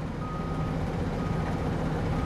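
A water tanker truck in the Atacama desert reverses while its beeper sounds steadily, set against a constant loud rumble of the engine.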